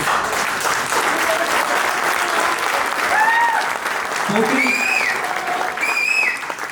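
Steady applause from a large audience fills a film pre-release event hall, continuous and loud throughout, with scattered whistles and cheers rising above the clapping.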